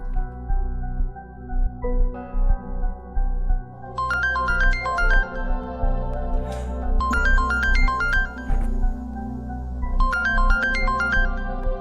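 A phone ringtone plays a repeating bright melodic pattern in bursts, three rings with short pauses, over a low steady hum.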